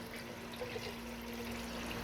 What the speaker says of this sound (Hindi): अभी जस्ट हमने इस पर पानी डालना,